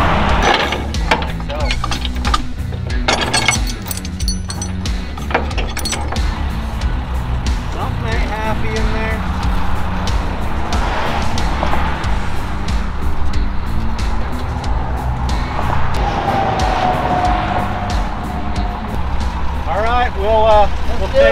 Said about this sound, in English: Now I'm on the tow truck heading home.